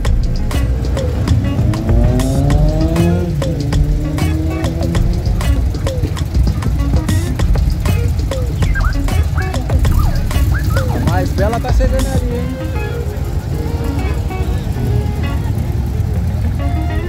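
Old cars arriving at a night-time classic car meet, with engines rumbling and revving loudly and steadily throughout, car horns or alarms chirping now and then, and voices talking over the motor noise.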